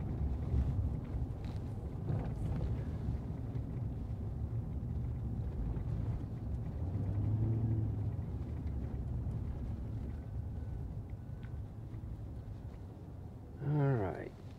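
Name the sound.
city street traffic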